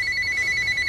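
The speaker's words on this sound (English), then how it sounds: "there's the phone ringing." A telephone rings with a steady electronic bell tone, loud and continuous through the whole short moment, with no talk over it, in a home kitchen setting.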